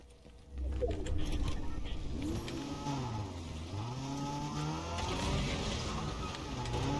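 A video game car engine drones and shifts pitch up and down as the vehicle is driven, steady and fairly close, with faint voices in the background.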